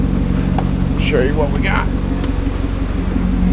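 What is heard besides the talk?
Chevrolet Corvette C6 LS2 engine running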